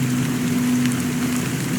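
Steady rain falls in an even, continuous hiss over a low constant hum, with no voices.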